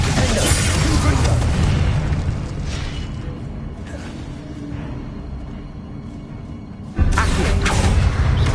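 A Confringo blasting spell erupts in a video game as a heavy booming explosion, followed by a long rumbling decay and then a second sharp blast near the end.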